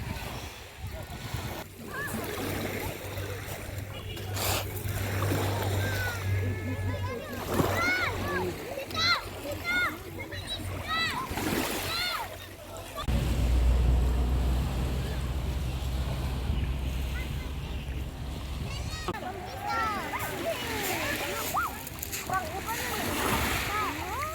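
Swimmers splash in the sea in repeated irregular bursts of churning water, close to the microphone, mixed with wind buffeting and people chatting, including a voice.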